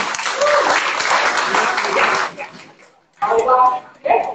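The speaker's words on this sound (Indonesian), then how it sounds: "Tepuk tangan semuanya." Audience clapping at an outdoor community ceremony for National Waste Awareness Day, loud for about two seconds then fading, followed by short bursts of voices and a dog-like yelp.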